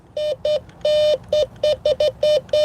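A Bounty Hunter Tracker IV metal detector sounds a series of about nine clear electronic beeps over a pin target on a road, uneven in length and spacing, close and steady with faint background hiss.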